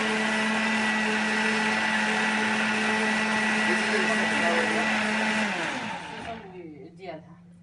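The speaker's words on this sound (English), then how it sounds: "You put it in the blender" A blender runs loudly with a steady high whine for several seconds while making kataif batter, then winds down and stops, leaving a faint voice at the end.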